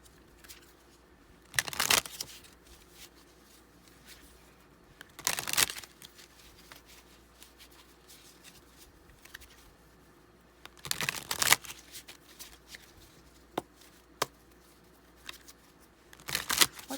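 A tarot card deck is shuffled in short, crisp riffling bursts spaced several seconds apart, with a few lighter clicks between them, in a quiet room.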